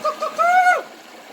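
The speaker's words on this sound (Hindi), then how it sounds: "भाई यहाँ सिर्फ 2 ही आवाज़ें हैं, एक तो ये पानी की कलकल की, और दूसरा कोई पक्षी टी टी टी।" A bird calls in a deep river gorge at Patalkot: a few short, clear whistled notes that rise into a longer sliding tone. Any flowing water stays faint or is absent beneath the call.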